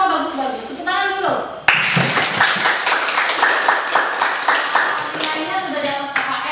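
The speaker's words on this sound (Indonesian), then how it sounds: "Tepuk tangan dulu." A class of students in an Indonesian school lesson bursts into lively hand clapping after a brief voiced sound, the claps close, loud and rhythmic with a few sharp individual hits standing out.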